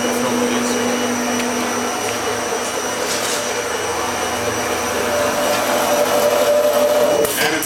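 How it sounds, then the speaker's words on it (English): An automatic welder running its auto cycle on a bookcase frame, giving a steady, loud, continuous buzzing hum with a sustained tone that holds unbroken from start to end. "And it starts welding."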